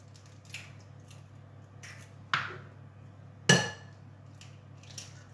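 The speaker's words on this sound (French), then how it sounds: "Je vais maintenant casser mes 3 œufs" Three eggs cracked one after another against a bowl while making a bacon lardon tart in a home kitchen; a few sharp, close taps and cracks stand out in a quiet room with no talking.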